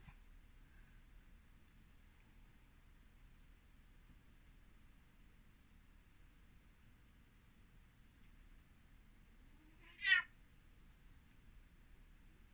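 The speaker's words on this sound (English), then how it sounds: "My cat is being a little bit annoying." A 19-year-old female cat gives a single short, clear meow close by, standing out against an otherwise quiet, faintly hissing room.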